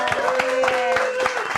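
An audience at a songwriters' playoff event claps in a short burst of scattered hand claps, heard under a voice and a sustained tone.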